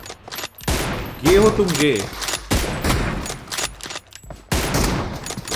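Gunfire bursts in the mobile battle royale game BGMI ring out in sharp broadband cracks across the clip, mixed with someone talking loudly over them.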